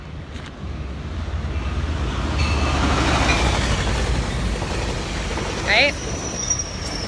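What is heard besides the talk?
freight train passing, sound effect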